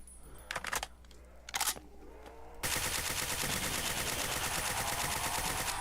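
AK rifle in a first-person zombie shooter firing two short bursts, then a sustained loud automatic stream of rapid close shots that runs to the end.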